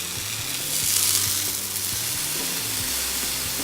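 Marinated paneer tikka frying golden brown in a pan, a dense bright hissing sizzle that stays steady and loud over a faint background tone.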